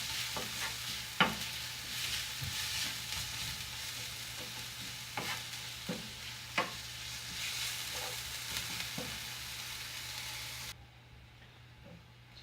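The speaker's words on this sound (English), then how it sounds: "And keep frying until the onions turns little brown in color." Onions sizzle steadily in a hot pan, with occasional clinks and scrapes of stirring, before the frying noise cuts off near the end.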